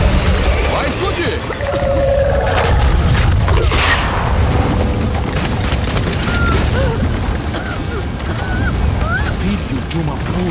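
A fragmentation grenade goes off in Gears 5 amid dense, continuous combat noise, with a broad blast standing out partway through and voices talking over the din.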